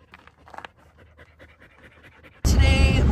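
A dog pants quickly and softly in the heat with a steady rhythm, until a loud rumbling burst of wind or handling noise suddenly covers it near the end.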